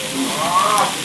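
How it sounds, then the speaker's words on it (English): Yak smash burger sizzling loudly on a grill in North Pakistan, a steady close frying hiss with no talk. "that's the yak smash burger on the grill at the moment"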